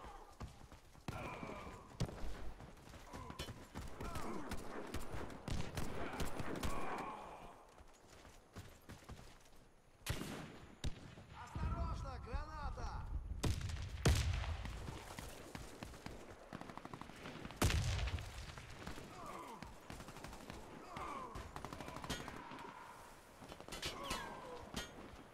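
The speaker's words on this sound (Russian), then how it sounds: "Это наш стреляет." Gunfire from a teammate in the video game Warface, bursts of sharp, close shots in rapid clusters spread across the clip, mixed with clattering footstep-like sounds and other game noise.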